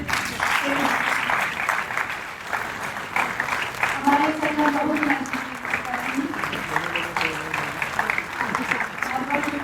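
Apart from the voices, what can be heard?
audience applause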